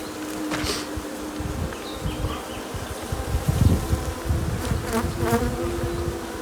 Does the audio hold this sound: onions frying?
no